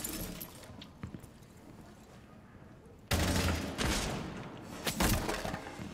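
Video game gunshots crack out in scattered single shots, then a dense, close burst of rapid fire breaks out midway and continues in sharp volleys.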